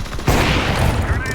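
Gunfire from Counter-Strike 2 lands a headshot in a sharp, loud burst of game shots, with voices talking over it.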